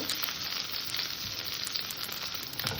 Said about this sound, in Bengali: ফুলকপিটাকে নেড়ে সুন্দর করে ভেজে নেব